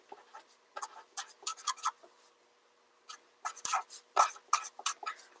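Pen scratching across paper while writing a note, in quick irregular bursts with a short pause partway, close and quiet.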